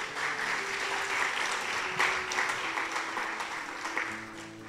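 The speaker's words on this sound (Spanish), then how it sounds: "Démosle un aplauso fuerte al Señor." A church congregation gives sustained applause during a service, steady dense clapping with a faint held tone beneath it.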